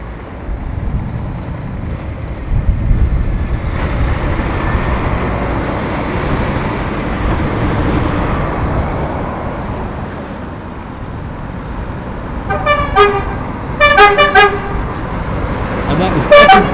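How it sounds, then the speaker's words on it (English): A convoy of lorries rolls past at Penrith, a steady loud engine and tyre roar that swells and fades, ending with several short horn toots near the close. "this looks a very suitable convoy of lorries to go off on"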